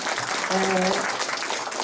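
An audience applauds young performers at the inauguration of a winter park of illuminated fairy-tale figures in Muszyna, Poland, producing a steady, dense wash of clapping throughout, with a brief tonal sound partway through.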